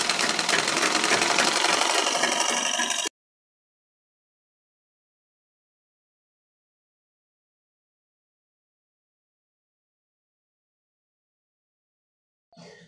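A sewing machine runs a quick line of stitching on men's underwear fabric, a dense, loud mechanical whir lasting about three seconds close up, followed by long silence and a faint brief noise at the end.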